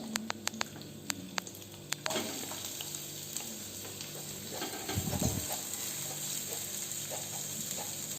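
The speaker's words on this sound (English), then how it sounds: "I am going to add finely chopped onions, 2 numbers." Finely chopped onions frying in a pan for Mumbai-style masala toast, with a steady close sizzle and light stirring. A few sharp ticks come first, then the frying noise fills the rest.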